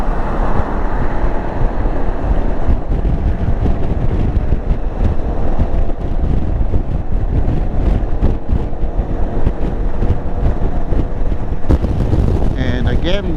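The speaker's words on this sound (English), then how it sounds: "That wind really pushes me around." Heavy, continuous wind buffets a learner motorcycle rider's helmet at speed, a loud rumbling roar throughout with gusty fluctuations and faint speech mixed underneath.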